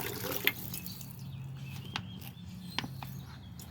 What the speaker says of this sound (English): We'll go ahead and give this little decorative kale a drink of water.